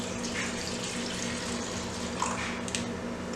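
Liquid poured into a Brita water filter jug during homemade alcohol making, a steady, close rushing splash that runs continuously for several seconds.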